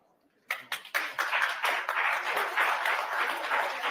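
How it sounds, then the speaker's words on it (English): Applause from people attending a nonprofit class: a few scattered claps at first, then steady, fairly close clapping from a modest group that keeps going to the end without talk. "I want to give you to give yourself a hand of applause"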